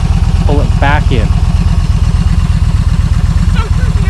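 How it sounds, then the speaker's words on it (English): A learner motorcycle idles close by, its loud, even low-pitched putter holding steady throughout, with a few faint voice-like sounds over it. "It's okay, you're just idling."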